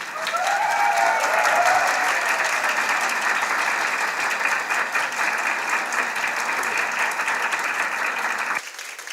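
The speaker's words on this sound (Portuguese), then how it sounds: "Seja recebido com um caloroso aplauso" Warm applause from a seminar audience welcoming a guest speaker, steady dense clapping with a few voices mixed in, holding for about eight seconds before cutting off.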